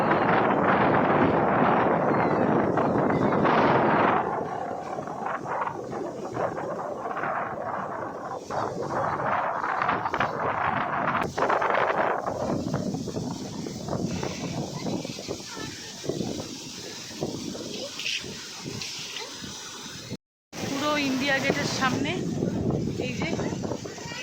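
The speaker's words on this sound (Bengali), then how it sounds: "প্রচণ্ড হাওয়া দিচ্ছে" Strong wind buffets the microphone outdoors by a fountain in Delhi, gusting in rough, loud bursts that drop briefly near the end, with voices talking through much of it.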